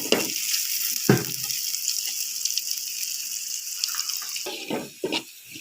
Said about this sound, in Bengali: দেখুন পেঁয়াজটা আস্তে আস্তে বাদামি কালার ধারণ করেছে।